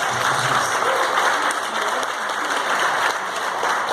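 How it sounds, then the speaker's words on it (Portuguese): Steady, sustained applause from a church congregation fills the room loudly for the full length, with no pauses and no voices standing out. "Palmas."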